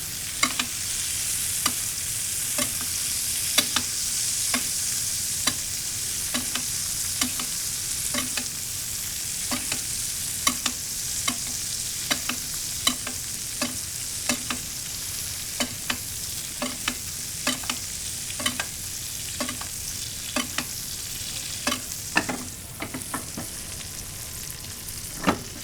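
A good steak searing in a pan with butter and garlic gives a dense, steady crackling sizzle, with regular scraping taps from a utensil against the pan throughout, close and continuous.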